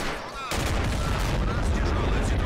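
Dense assault-rifle gunfire from Army Men, a plastic toy-soldier war game, with BAR, G16 and M1 Garand fire crackling continuously as a loud fusillade after a brief quieter start, a voice faintly under it.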